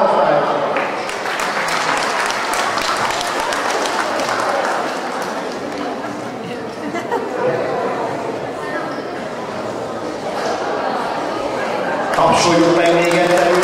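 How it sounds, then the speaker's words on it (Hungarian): Audience applause for prize winners at a school running event in Pásztó, steady clapping filling the whole stretch with crowd chatter mixed in and a voice coming through near the end. "Tapsoljuk meg még egyszer őket, gratulálunk."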